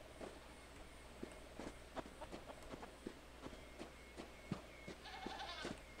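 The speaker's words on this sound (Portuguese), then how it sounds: "E esses bodes são de quem?" Goats bleat on a farm in the video game Arida, several short calls scattered over a quiet ambient background with light footstep-like taps, fairly faint and without speech.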